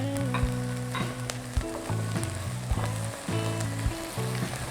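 Chopped garlic fries in hot oil for a savory choux filling, giving a steady, close sizzle with scattered pops and clicks over a low tonal hum.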